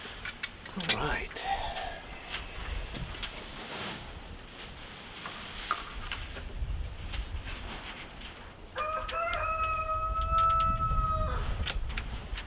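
A rooster crows near a cabin in Alaska, one drawn-out harmonic cock-a-doodle-doo late in the scene, preceded by scattered clucks and faint outdoor background noise.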